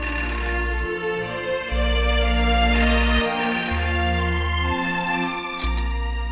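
A phone rings in a quiet home in bursts of electronic ringtone, about four rings with short pauses between them, close and clear with no talking over it.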